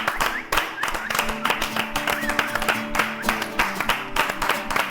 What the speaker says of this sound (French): Je vous prie, s'il vous plaît, d'applaudir.